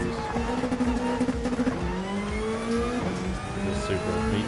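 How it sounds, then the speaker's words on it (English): A Toyota Supra racing in a PS4 game, its engine droning and rising through revs with shifting pitch, close and loud, with tire noise and other cars underneath. "This Supra, you can tell. It's got all that power right up front."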